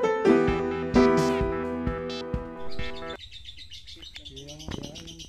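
Rapid, chattering calls of a lovebird in close succession, bright and busy, with a few sharper chirps later on.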